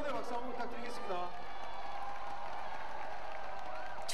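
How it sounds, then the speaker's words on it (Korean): An audience at a rainy outdoor festival claps in encouragement beneath a tent. The broad, continuous applause blends with rain noise, while a voice and tonal sounds briefly rise at the start. "응원의 박수 한번 부탁드리겠습니다."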